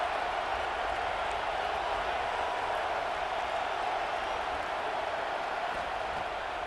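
A packed stadium crowd roars at a Miami vs FSU college football game, a dense, continuous wash of cheering and noise holding steady throughout without breaks.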